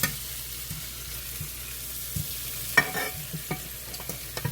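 Corn sizzles softly in a pan for a seafood stew, giving a steady low frying hiss. A few faint stirring clinks and scrapes come through, and no one speaks.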